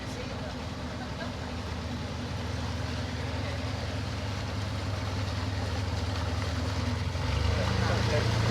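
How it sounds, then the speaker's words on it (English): A boat engine drones and rumbles steadily nearby as the boat comes out of a junction, growing slightly louder over several seconds, with a low churning hum throughout. "Just letting this boat come out of the junction."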